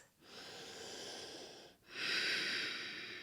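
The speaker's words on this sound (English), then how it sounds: "We're here for 10 big, long breaths." Slow, deep breaths during a hip stretch with knees bent outward, two long airy exhalations close to the mic, the second louder and fuller after a short pause.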